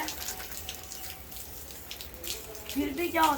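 Water poured from a can or hose over hanging basket plants to soak their browning, dry leaves, a steady splashing trickle that gets louder near the end.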